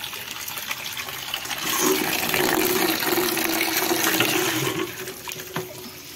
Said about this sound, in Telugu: సో ఫస్ట్ వాటర్ యాడ్ చేసేస్తాను